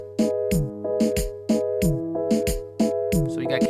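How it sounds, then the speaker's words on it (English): A reggaeton dembow beat built from two kicks and a snare loops in a steady bouncing pattern, punchy low thumps alternating with sharp snare hits, alone without voices. "the first thing that we brought in was the two kicks, so kick 1 and 2, and then the snare"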